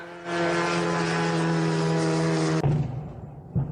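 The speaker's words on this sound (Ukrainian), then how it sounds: "Прольоти безпілотників." Steady droning engine hum of drones flying overhead, with a strong low tone, continuous and fairly loud, cutting off abruptly near the end before quieter rumbling.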